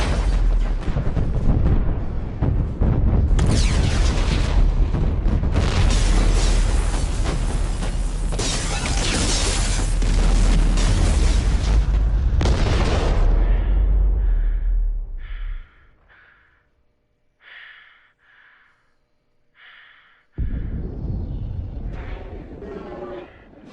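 Gunfire and heavy explosions from combat in the video game Mass Effect 2, a loud, dense barrage for about fifteen seconds, then a lull with a few short clipped sounds before loud battle noise resumes.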